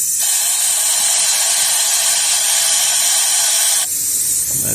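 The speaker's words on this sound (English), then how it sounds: "You can hear my air hose is leaking" A leaking air hose in a car repair setting hisses loudly and steadily for almost four seconds, then cuts out abruptly, leaving a faint lower hiss.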